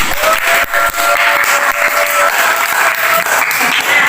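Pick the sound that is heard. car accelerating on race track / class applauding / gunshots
class applauding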